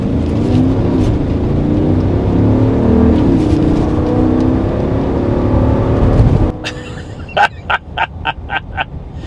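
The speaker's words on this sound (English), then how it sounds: "I'm gonna give it just a little bit of gas when this light turns green so you can hear it for yourself." A 2022 Jeep Grand Wagoneer V8 accelerates from a stop, a loud, steady engine roar building for several seconds before cutting off into a quick series of sharp, clipped bursts.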